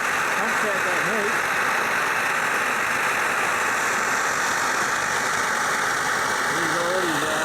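A Svea 123R camp stove burning at full output, a steady loud roaring hiss that runs unbroken throughout, with a voice speaking briefly over it at the start and end.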